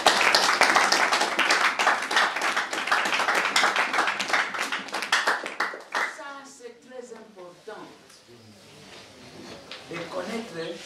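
A room of pupils at the École de David of the Maison Africaine bursts into brisk, close clapping that runs strong for about six seconds. The clapping then fades as a voice begins speaking.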